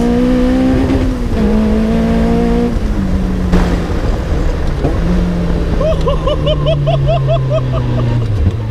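Caterham 420R sports car engine droning steadily and loudly as it drives, with the pitch shifting through gear changes, rising and falling under acceleration, and a brief higher whine near the end.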